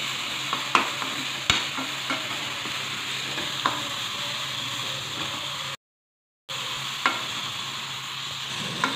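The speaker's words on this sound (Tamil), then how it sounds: "ஜஸ்ட் 1 or 2 மினிட்ஸ் லேசாக வதக்கினாவே போதும்." Ingredients for tomato rasam sauté in a hot pan with a steady, close sizzle and occasional clicks of stirring. The sound drops out briefly partway through, and no one speaks.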